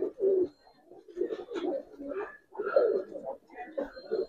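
Giribaz pigeons coo close by in low, throaty rolling bursts, several calls in quick succession with short pauses between them.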